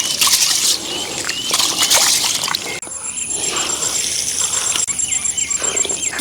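Hands swish and slosh rice in a basin of water for chicken vadi biryani, making continuous close, wet swirling and splashing with a faint trickle, steady throughout with a short break near the middle and a high tone in the background.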